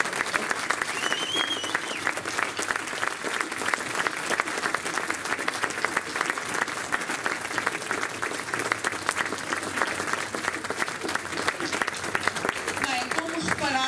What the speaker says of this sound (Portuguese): Palmas para quem teve que aturar este povo todo